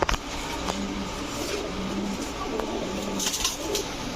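Female Sobji Putul Gorra pigeons, large running hens with snake eyes, coo softly and steadily in a pigeon loft, with occasional wing flutters and a car passing faintly behind.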